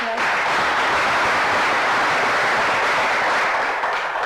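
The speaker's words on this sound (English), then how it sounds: "a big round of applause again for the debaters" A crowd applauds school debaters at an education debate event, giving a thick, continuous wash of clapping that stays loud and even without a break.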